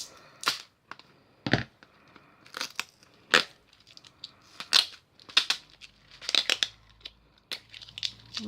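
Scissors snip and crunch through plastic packaging in a string of sharp, close cuts and crinkles with short pauses between, no talk.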